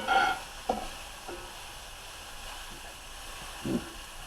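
Fajita vegetables and meat sizzle in olive oil in a pan, a steady soft hiss with a few sharper scrapes and clacks of a utensil turning the food, close up and with no voices.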